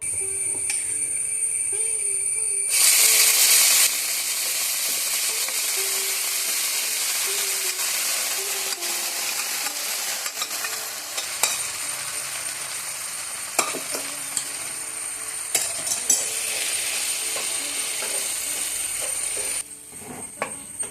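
Onions with banana flower and cowpeas fry in a pan with a continuous sizzle, broken by stirring scrapes and occasional spoon knocks, close up and with no talking.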